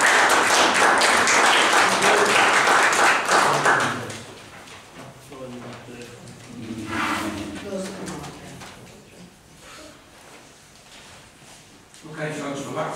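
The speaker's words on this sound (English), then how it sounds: "deserves a round of applause" A round of applause in a council committee meeting, full and steady hand clapping for about four seconds, then easing off as voices start speaking in the room.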